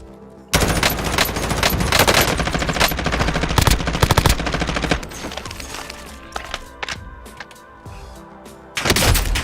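Rapid bursts of video game gunfire crackle loudly and densely for several seconds, then thin out into scattered, sporadic shots and a final loud burst.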